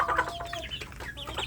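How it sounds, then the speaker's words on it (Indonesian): A free-range village chick, pestered by another chick, gives a quick run of high, thin peeps and clucks, close and fairly loud. "Ini ada anak ayam kampung yang diganggu oleh temannya"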